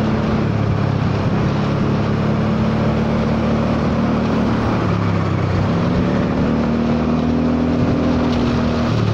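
Yamaha Forza 300 scooter engine fitted with a new exhaust, running loud and steady at close range with a dense, raspy drone that dips and rises slightly in pitch midway, with no talking over it.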